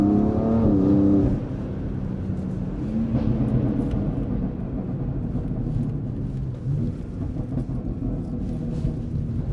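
A 600 hp car in Sport Plus mode accelerates, opening with a loud rising engine roar that settles into a lower rumble and road noise heard from inside the car.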